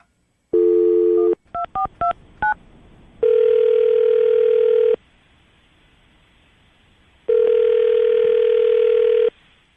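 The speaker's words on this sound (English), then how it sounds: "we're about to call Leslie and see if we can get an answer why she's not returning your phone calls" Telephone touch-tone dialing on an outgoing call starts with a short dial tone and a quick run of key beeps. Two long, steady ringback tones follow, separated by quiet, clear and alone.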